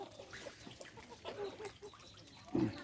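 Several chickens cluck and squawk close by while eating black soldier fly pupa shells, with a louder burst of fowl calls near the end over faint background noise.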